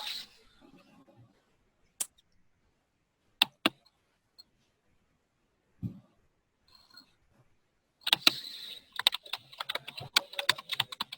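Typing on a computer keyboard during an online teacher-training session on 21st-century classroom tools: sparse single clicks at first, then a fast burst of close, crisp keystrokes near the end.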